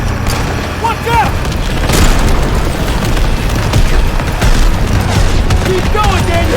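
Sustained gunfire and booming explosions during a train battle in a Call of Duty game, loud and continuous throughout with voices shouting over the combat.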